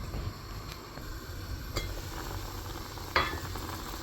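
Sri Lankan fish sothi with coconut milk simmers in a pot while a spoon stirs it, giving a soft bubbling sizzle with a few sharp scrapes and clinks of utensil against the pot, close and without talk.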